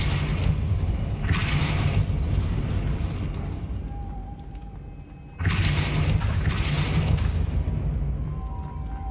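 Depulso force spell cast in Hogwarts Legacy, two loud whooshing blasts with a rumbling tail, separated by a quieter lull.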